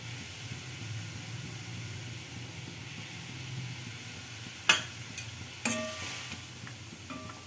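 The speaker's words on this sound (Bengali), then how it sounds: "এবার আমি মাছগুলো দিয়ে দিচ্ছি।" Pabda fish going into hot oil in a pan, a low steady simmering hiss that breaks into a couple of sharp sizzling bursts and splatters near the end, with no talking.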